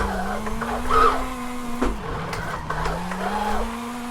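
A car drifts in Forza Horizon 5 with a wheel-spin drift build, its engine droning steadily while tires squeal and hiss through the slide, loud and continuous.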